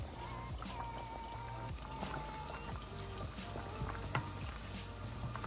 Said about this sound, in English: I'm just letting it simmer so it can thicken and then some of the liquid to evaporate out.